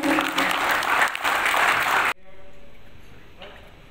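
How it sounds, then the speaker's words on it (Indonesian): Loud applause from the audience at a PERADI Batam branch inauguration ceremony in Batam, filling the first two seconds and then cutting off abruptly to a quieter room with a fainter trailing murmur. "Hadirin berikan tepuk tangan yang meriah."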